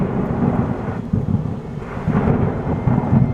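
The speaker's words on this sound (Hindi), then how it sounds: "तभी जोर का आंधी तूफान आया। शादी का मंडप हवा में उड़ने लगा। तभी बारिश शुरू हो गई।" A thunderstorm in a Hindi cartoon story, with a wedding canopy in the wind as rain begins: low rolling thunder rumbles under a steady hiss of rain, continuous and loud, with no talking.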